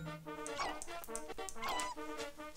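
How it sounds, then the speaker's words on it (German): A dog barking in the video game WarioWare: Move It!, a rapid string of sharp, close yips and barks in quick bursts over background game sounds. "Hau ab, Hund!"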